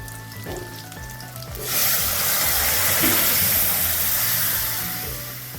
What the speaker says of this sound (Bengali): ঘুগনিটা চাপিয়ে দিই